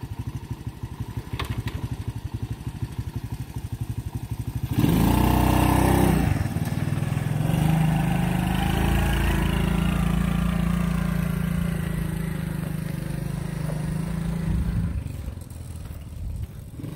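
A three-wheeler's small engine idles with a rapid putter, then revs up loudly and settles into a steady, droning run close by, easing off slightly near the end.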